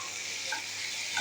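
Boiled eggs and boiled potatoes frying in oily spice masala, a close, steady sizzle with faint stirring and no talk.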